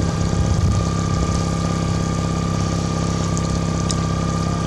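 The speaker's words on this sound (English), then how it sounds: "Then I use the kicker motor to push it, and the Minn Kota does all the steering." A fishing boat's kicker motor runs steadily, pushing the boat along with a constant, loud, droning hum and a low mechanical whine, unbroken throughout.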